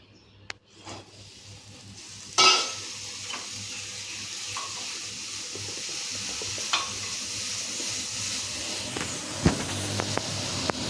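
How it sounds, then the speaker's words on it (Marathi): Green chilies of two kinds roasting in a hot pan, a steady low sizzle under occasional scrapes and one sharp clatter of a utensil against the pan, no voices. "आता आपण या मिरच्या भाजू."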